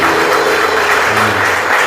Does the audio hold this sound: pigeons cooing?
no